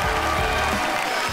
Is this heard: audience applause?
yes